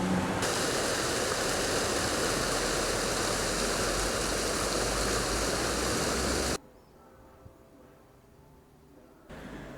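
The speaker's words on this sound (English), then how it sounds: "It's recently been renovated and this fountain is completely new." A newly renovated city fountain in Vilnius sends up a steady, loud rush of splashing water, close by, that cuts off abruptly partway through, leaving quieter outdoor ambience.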